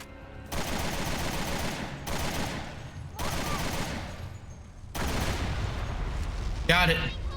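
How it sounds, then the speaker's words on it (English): Barry's assault rifle in Resident Evil: Revelations 2 fires in long sustained bursts, four loud dense volleys broken by short pauses, with a brief sharp noise near the end. "Barry's gonna switch to his assault rifle."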